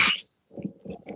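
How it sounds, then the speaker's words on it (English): A single person sneezes once, sharp and close, followed by a few soft breathy sounds at low volume. "Sorry, just sneezed."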